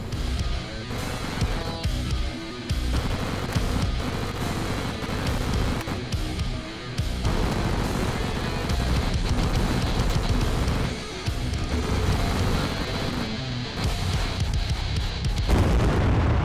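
Cruise missile strikes in the combat flight game Nuclear Option land as a dense run of deep booms and blasts, overlapping and continuous, loud and rumbling throughout with no talk.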